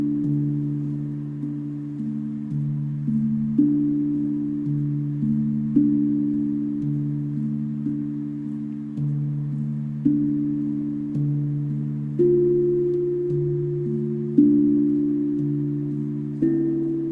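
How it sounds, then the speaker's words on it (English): Steel drum notes ring out one after another in a slow, even melody, each tone struck clearly and left to decay gently, played alone and fairly close in a calm meditative setting. "Imagine the notes of this steel drum as light"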